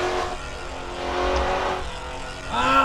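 A race car engine in a racing game at the Nurburgring rises and falls as the throttle is lifted, revving down and then climbing again in short surges, with no talking.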